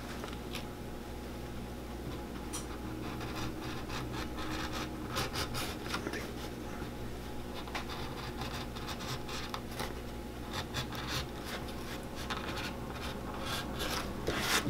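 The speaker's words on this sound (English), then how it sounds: "And then I can actually take a sander and sand this metal portion down." A sander working down the metal portion of a cowboy boot sole during a resole, a continuous faint rasping grind with uneven scratchy strokes throughout.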